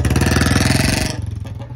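A Royal Enfield Bullet motorcycle with a loud exhaust revs close by in a rapid, heavy thumping beat, then drops back to a slower, uneven idle.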